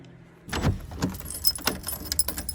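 A bunch of keys jangles and rattles up close while a house door is locked, in bursts of bright metallic clinking over a quiet outdoor background with no talk.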